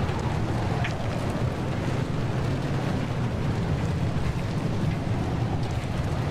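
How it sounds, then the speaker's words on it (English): Heavy rain pounds a car in the video game Pacific Drive, a dense, constant roar of downpour with no let-up from start to finish. "that is a lot of rain."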